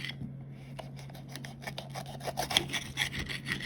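A knife slices through a red bell pepper on a cutting board, making soft scraping, rasping cuts that grow busier and crisper toward the end, close by and fairly quiet.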